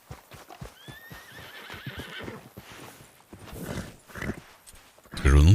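Horse whinny from a video game, a rising neigh early on with hoofbeat-like clip-clop and game sounds, heard under ongoing talk, ending in a loud burst.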